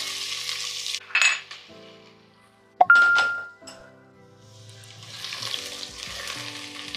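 Onions and whole spices (cinnamon, cloves and green cardamom) hit hot oil in a pan for mutton curry with a bright sizzle, followed by stirring clinks, then a steady frying hiss.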